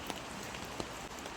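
Steady rain falls throughout, a dense wash of patter with a few sharper drops standing out, no voices.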